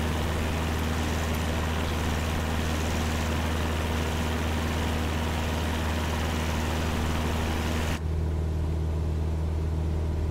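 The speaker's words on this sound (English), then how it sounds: "Because of all the engine noise." A Cessna 172's piston engine drones loud and unbroken in flight, a steady low hum with strong tonal throb that fills the cabin throughout, its high hiss dropping sharply near the end as if a headset or door seals out the noise.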